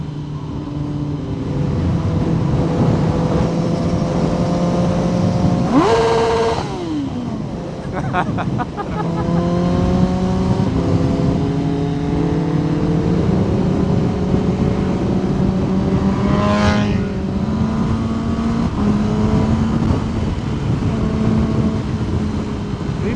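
A steady engine drones throughout as a motorcycle rides along, its pitch stepping up and down through gear shifts, with wind noise and two brief sharp rises.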